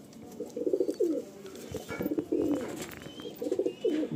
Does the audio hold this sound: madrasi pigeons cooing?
yes